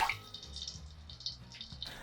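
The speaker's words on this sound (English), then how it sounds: "Pour 400 ml of dashi stock" Dashi stock being poured into a pot makes a steady, soft liquid splashing and trickling sound, close and unbroken, with no talking.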